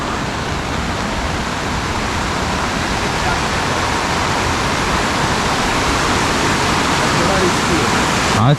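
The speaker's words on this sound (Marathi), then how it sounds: "ह्या वॉटरफॉलला आम्ही नाव दिलेलं आहे पोलादपूरचा दूधसागर" Waterfall in the Sahyadri forest near Poladpur, running with reduced flow, roars as a steady, loud, broadband rush of falling water, unbroken for the whole stretch and close to the listener.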